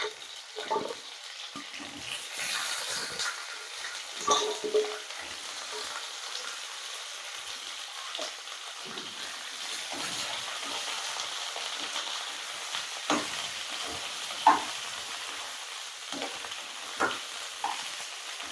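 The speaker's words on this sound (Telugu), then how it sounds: "ఇవి వేపేసుకోవాలి." Tender chopped okra pieces fry uncovered in hot oil, producing a soft, continuous sizzle and crackle with scattered small pops and occasional spatula scrapes, and no one speaking.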